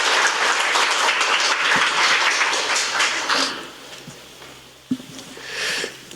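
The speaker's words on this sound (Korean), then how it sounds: "여러분 박수로 모셔주십시오." An audience at a book talk applauds to welcome a speaker: dense, steady clapping from a crowd that fades out after a few seconds, followed by a few scattered claps and a faint stir.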